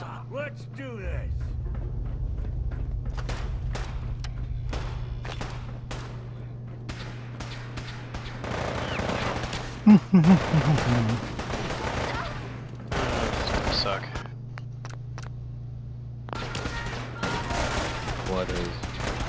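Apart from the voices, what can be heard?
gunfire in video game Fallout 4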